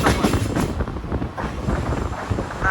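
A heavy, steady rumble of a train arriving close by at Marine Lines, with wind buffeting the microphone throughout.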